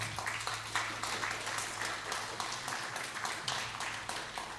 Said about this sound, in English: Can you give her a round of applause, please?